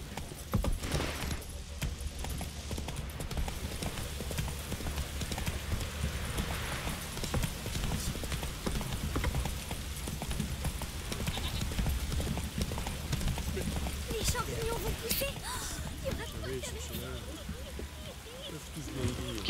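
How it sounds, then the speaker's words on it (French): Horse hooves galloping steadily in The Witcher 3, a continuous rhythmic clip-clop with a faint jingle of tack, heard up close while voices talk over it. "Allez, mon cheval, viens là."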